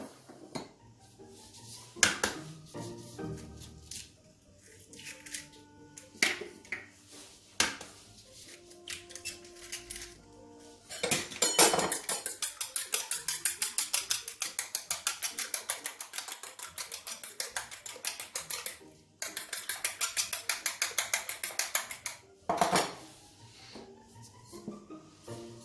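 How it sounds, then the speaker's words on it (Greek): Eggs for a crustless Greek cheese pie are beaten in a bowl, a long run of rapid, rhythmic clinking whisk strokes against the bowl, broken by pauses and scattered taps. "Σπάμε τα αυγά και τα χτυπάμε."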